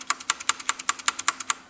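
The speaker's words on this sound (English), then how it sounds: "that's what the bigger keys sound like." Large keys with wire stabilizers on a Leopold keyboard with Cherry MX Red switches, struck about a dozen times in a quick, even rhythm, each bottoming out with a sharp, clacky, close-up thock and no talking.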